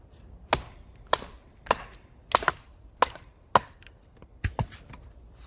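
Böker Plus Mini Tracker knife with 5mm thick blade stock splitting wood, a series of about eight sharp woody knocks at irregular intervals, close and fairly loud with quiet gaps between strikes.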